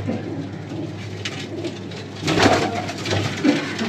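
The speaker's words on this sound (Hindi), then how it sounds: "बहुत ही बेहतरीन कबूतर रखे हुए हैं" Pigeons coo softly and repeatedly over a steady low background hum, with the calls growing a little fuller toward the end.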